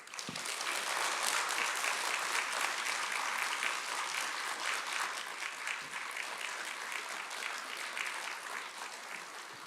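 A lecture audience gives a speaker a big welcoming round of applause: thick, continuous clapping that swells early, then eases slightly while staying full for about ten seconds.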